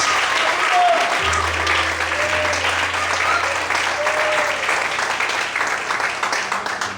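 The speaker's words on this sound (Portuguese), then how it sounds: "Vamos aplaudir o Senhor Jesus." Worshippers in a church applaud for Jesus, a continuous crowd of clapping hands that stays full and steady, then thins slightly toward the end, with low keyboard notes sustained beneath.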